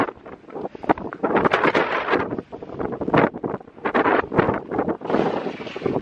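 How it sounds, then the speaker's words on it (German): Strong outdoor wind buffets and roars across the microphone in continuous gusts, loud and broadband throughout, with no clear speech on top. "Und es ist so windig."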